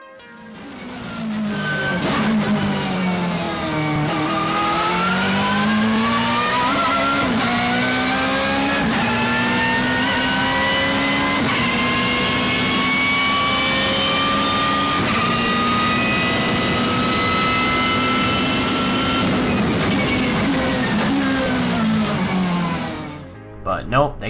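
A BMW M3 GTR engine in Forza Horizon 4 revs steadily and loudly, its pitch climbing and holding in a sustained high whine with gear-like shifts, ending abruptly.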